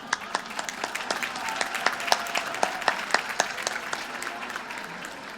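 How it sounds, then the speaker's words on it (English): Audience at a Latina History Day luncheon applauds steadily, many hands clapping with distinct individual claps standing out over a continuous moderate wash throughout. "Please join me for a round of applause in gratitude to Estee Lauder."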